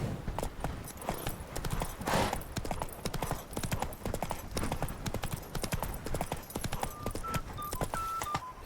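Hooves of the horse Roach clip-clop steadily on the ground in The Witcher 3, a quick, even trotting rhythm that carries on throughout at moderate volume.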